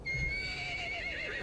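A horse in the video game ARK: Genesis lets out one long, loud whinny that wavers as it trails off, heard close and clear with a faint thud of hooves underneath.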